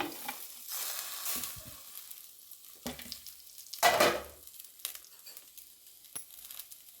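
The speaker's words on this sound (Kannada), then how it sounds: "ಹಾಗೆ ಒಂದು ಸ್ವಲ್ಪ ತೆಂಗಿನಕಾಯಿ ಎಣ್ಣೆಯಲ್ಲಿ ಚೆನ್ನಾಗಿ ಫ್ರೈ ಮಾಡ್ಕೊಳ್ತೀನಿ" Coriander leaves, green chillies, onion, tomato, garlic and ginger fry in coconut oil, giving an uneven, close sizzle. It comes in bursts with crackles and brief stirring rustles, and a louder hiss swells midway.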